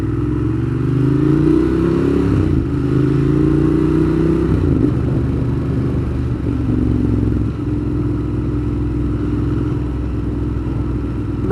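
A 2015 Ducati Monster 1200 motorcycle fitted with a Termignoni exhaust, engine loud and close as it revs and rises in pitch, then settles into a steady throaty rumble throughout.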